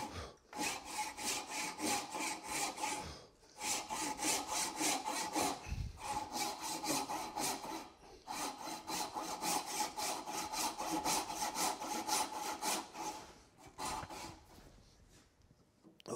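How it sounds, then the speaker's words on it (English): A hand saw cuts a wooden tenon along a knife line in rhythmic back-and-forth strokes, close and clear, in several bursts separated by brief pauses, with no talking. "Now I'm gonna let the saw lower and track right across the top of my knife line."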